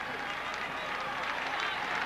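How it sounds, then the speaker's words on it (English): A roadside crowd at the 1996 Tour de France gives cyclist LeBlanc a sympathetic round of applause, heard as a steady, continuous wash of clapping with no pauses. "Sympathetic round of applause from the crowd here for LeBlanc"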